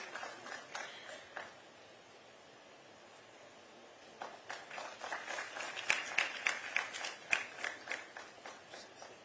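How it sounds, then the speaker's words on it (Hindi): Applause at a state teachers' education excellence award ceremony in Uttarakhand, with faint scattered clapping that swells after a quiet stretch into a crowd of claps and a few sharper individual claps toward the end. "एक बार तालियों के साथ हम डॉक्टर यतेंद्र प्रसाद गौड़ जी का सम्मान करते हैं"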